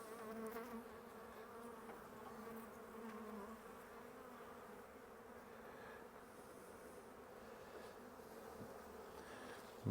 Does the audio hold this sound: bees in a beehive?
yes